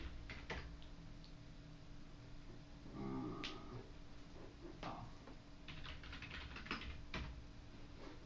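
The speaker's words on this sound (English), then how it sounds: "if I can type my password incorrectly, I'll get it in there." Scattered soft keystrokes tap on a computer keyboard as a password is entered, faint and irregular over a steady background hum.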